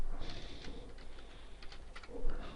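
Quiet, steady clatter of keys on a computer keyboard as PHP code for a bubble sort is typed, irregular bursts of keystrokes with no voices.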